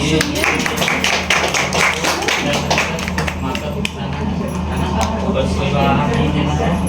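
Steady, dense clapping from an audience at a World Breastfeeding Day event in a district hospital in Sidhi, with crowd chatter and voices mixed in throughout.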